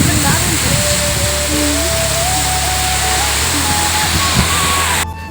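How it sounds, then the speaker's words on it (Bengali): The Moti waterfall on a hillside rushes loudly and continuously, a dense broadband roar close by, with voices faintly heard beneath it. "আর ঝর্ণার সাউন্ড মানে তো আলাদাই সাউন্ড।"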